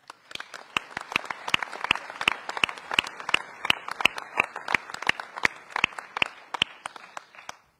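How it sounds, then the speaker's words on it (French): Sparse applause at a mayor's New Year address, a few people clapping nearby in a steady, distinct rhythm of individual sharp claps that continue evenly before stopping. "Je crois qu'on peut les applaudir."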